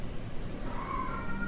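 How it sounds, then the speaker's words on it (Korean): A cat cries in a drawn-out, wavering meow set against windy background noise, fairly faint and mid-distance, rising and trailing off in a single plaintive call. "고양이 울음소리가 점점 가까이 다가오더군요"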